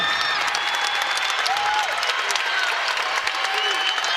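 A big home crowd at a women's college volleyball match in an arena applauds and cheers loudly and continuously after a point, with whistles and a commentator's voice over the noise.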